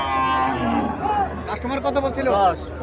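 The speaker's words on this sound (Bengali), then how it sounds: "বাছুরটা খুব সুন্দর একটা বাছুর, সাইওয়াল জাতের বাছুর" A Sahiwal breed calf at a cattle market lets out a drawn, wavering moo, close and fairly loud, amid a crowd's background chatter and people talking nearby.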